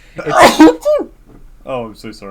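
A single sharp sneeze bursts out close to the microphone during a podcast recording, followed by a short spoken apology and more conversation.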